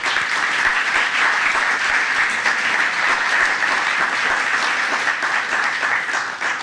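An audience at a press conference about transit project recommendations claps steadily, a dense, even wash of applause that holds for several seconds at moderate level.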